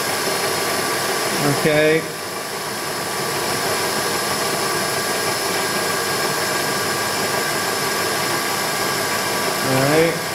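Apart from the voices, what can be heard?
Bridgeport milling machine running at 1400 RPM with edge finder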